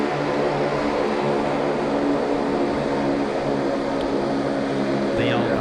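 A Regional Express Saab 340 turboprop at Sydney Airport drones steadily with a low propeller hum and broadband engine roar, constant and fairly loud throughout, with faint voices underneath.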